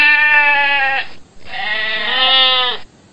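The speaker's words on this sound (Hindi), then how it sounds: "बकरी मैं करती है।" A goat bleats twice in close succession, a loud, wavering, nasal call, then a short pause and a longer second bleat, heard up close and alone with no talking.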